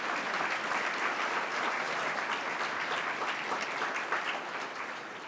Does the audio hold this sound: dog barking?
no